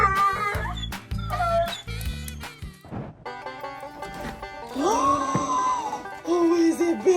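An excited dog whimpers and yips in a string of high, wavering cries while greeting a neighbor, close and fairly loud throughout.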